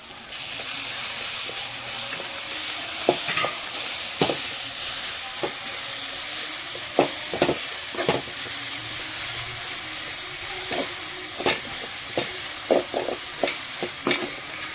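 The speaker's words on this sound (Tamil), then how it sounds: "இதுல இப்ப நம்ம இஞ்சி பூண்டு பேஸ்ட் ஆட் பண்ணிக்கலாம்." Ginger garlic paste sizzles and fries in a pan with fish for a Tamil-style Thirukkai meen sukka, with a steady close hiss broken by repeated sharp spatula stirs and scrapes, no talking.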